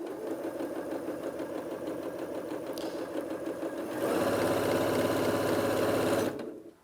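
A Janome Atelier 9 sewing and embroidery machine stitches with a steady rapid whirring patter, then speeds up to a louder, faster drone before stopping abruptly.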